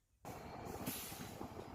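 A Vistadome tourist special train on the New Jalpaiguri–Alipurduar Junction line rolls along after a silent start, with a steady close rumble of wheels and carriage noise plus a brief high squeal of wheels on rail.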